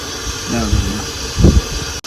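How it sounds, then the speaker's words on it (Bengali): Soya chunks frying in hot oil in a wok give a steady close hiss, while brief bursts of voice rise over the sizzle. "তেল গরম হয়েছে সয়াবিনটা ভেজে নিই"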